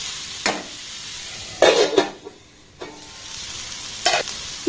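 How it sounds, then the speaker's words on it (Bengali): Carrots and capsicum sizzle in a pan over a low gas flame while a utensil stirs them, giving several short bursts of scraping and frying hiss over a constant quiet sizzle. "এটাকে দেখুন একটু ভালোভাবে নাড়াচাড়া করে ভেজে নিয়েছি"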